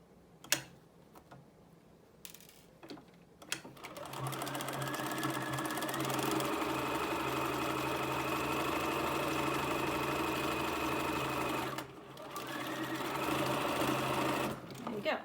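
A sewing machine stitches a fabric face mask, starting with a few clicks and handling noises, then running in a steady fast mechanical whir for several seconds, briefly pausing before resuming, with a person speaking over it.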